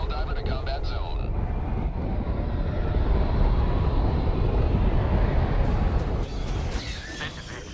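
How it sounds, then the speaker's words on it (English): In the Helldivers 2 video game, a Helldiver drops from a destroyer into a combat zone. A dense, roaring rumble builds and holds, then tapers off near the end. "Allied destroyer joining squadron. Deploying Helldiver to combat zone."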